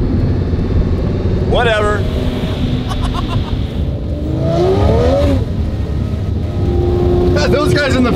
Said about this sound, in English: Like a row of supercars driving down a gravel road.